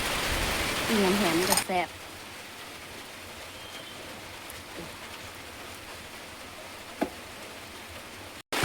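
Steady rain falls outside a house, a soft continuous hiss that carries on alone after someone speaks briefly at the start.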